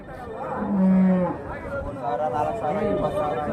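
Cattle at a cow market for high-yield HF dairy cows, with a loud, deep close moo followed by a second lower moo, set against a busy background of market chatter and voices.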